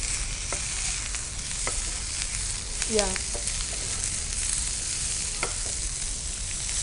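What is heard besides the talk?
frying eggplant for vankaya kobbari fry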